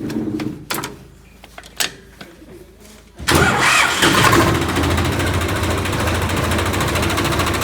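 A Tata tractor's engine cranks and catches near 3 seconds, then settles into a loud, steady idle that runs to the end, following a few quieter knocks and handling sounds beforehand.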